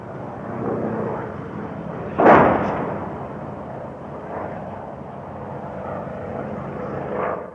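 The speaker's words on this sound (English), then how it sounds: "While the air attacks continued overhead" Military aircraft fly over during air attacks in the 1972 siege of Kontum, a steady roar of engines overhead with a louder swell as one passes close, then fading back to a sustained distant drone.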